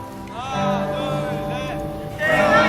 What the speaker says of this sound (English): there's several fans showing up to cheer him on